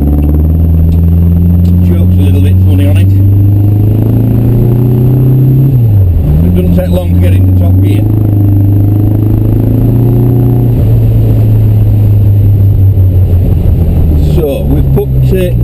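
Fiat 500 fitted with a Subaru engine driving along, a loud steady engine drone that dips around a gear change and then pulls again, with people talking over it in the cabin.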